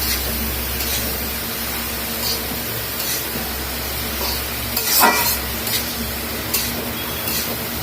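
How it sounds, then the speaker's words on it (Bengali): Snake gourd pieces fry with turmeric in a pan, sizzling steadily while a spatula stirs, with scraping strokes against the metal recurring through the sizzle and one louder scrape near the middle. "আমি এখন এভাবে এটাকে ভাজি করব"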